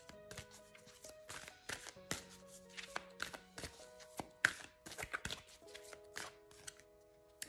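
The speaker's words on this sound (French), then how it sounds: "Je viens de mélanger les cartes" A deck of oracle cards being shuffled by hand, giving a run of soft riffling, flicking and tapping bursts close by, with faint background music and no talking.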